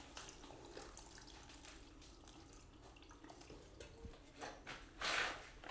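Water drains from a houseplant pot sitting in a bathroom sink with quiet trickling and irregular drips, faint and close, and a brief louder splash near the end.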